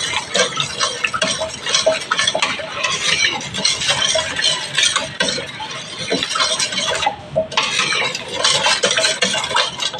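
Pork tocino marinade mixed in a bowl, rapid wet clattering and scraping of a utensil against the bowl in quick repeated strokes, close and loud, with one short pause.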